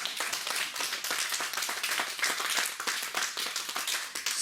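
A church congregation claps and applauds in praise during a French-language service, a dense, steady wash of many hands at moderate distance with no voice over it.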